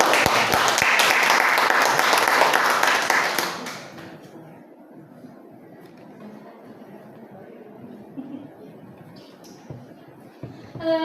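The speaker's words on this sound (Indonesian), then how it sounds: "tepuk tangan buat kita semua" Audience applause at an Indonesian teachers' presentation, a loud burst of clapping for about three and a half seconds that drops off to faint room noise and scattered claps.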